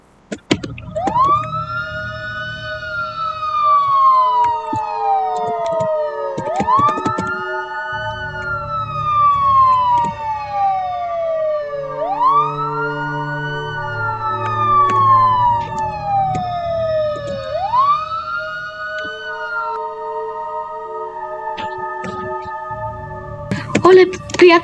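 An ambulance siren in the Minecraft video game wails in repeated rising-and-falling sweeps, loud and close, over a low engine rumble, with brief clatter at the start and end.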